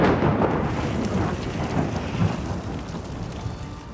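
Deep, continuous thunder rumble with a steady rain-like wash, loud and close, from a storm of dry lightning strikes over Australian bushland ahead of bushfires; the rumble swells around the middle and stays broadband without pause.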